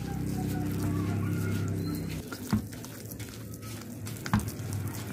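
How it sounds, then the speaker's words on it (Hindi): Thick potato pakora batter is stirred by hand while water is added, with soft wet mixing sounds under a steady kitchen hum, followed by two sharp clacks of a spoon against the bowl. "तो इसमें जितना आपको पानी ग्रेजुअली ऐड करेंगे, मिक्स करते जाएंगे, एक अच्छा सा थिक बैटर बनाएंगे"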